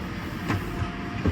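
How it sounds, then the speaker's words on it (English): Passenger train of the Channel Tunnel shuttle to Calais at boarding, a steady low rumble of rolling stock with faint clatter and a couple of soft thumps, moderately quiet and without talk. "Just getting on the train to Calais."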